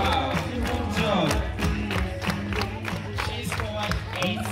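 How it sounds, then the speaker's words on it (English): Schoolchildren in a P.3 class clapping for a classmate, busy rhythmic clapping mixed with excited voices and singing in a noisy classroom. "Clap for Jolly."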